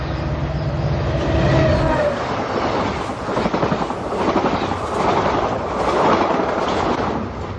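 A Surfline passenger train runs at 90 mph near San Onofre toward Camp Pendleton, with a loud, continuous roar and rushing rumble of wheels on track, steady and close throughout.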